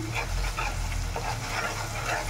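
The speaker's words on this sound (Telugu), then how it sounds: "ఇది మొత్తం వేయించుకోవాలి." Ginger-garlic paste sizzles and fries in a hot pan, a dense, steady crackling hiss with faint stirring, close and continuous.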